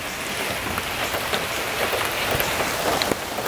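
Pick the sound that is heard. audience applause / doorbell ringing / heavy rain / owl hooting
heavy rain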